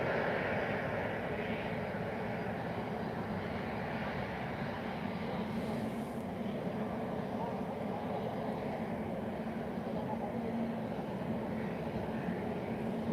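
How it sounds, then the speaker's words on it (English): An airplane landing at Lisbon Airport on a sunny afternoon, a steady distant engine roar holding at an even level throughout, with faint talk underneath. "Seems we're going to have another landing before Ryanair takes off."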